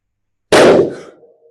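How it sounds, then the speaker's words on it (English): A balloon bursts in a science demonstration with a single loud, sharp pop that decays quickly after a moment of silence. "The balloon gets bigger and bigger and bigger until eventually we end up with an explosion."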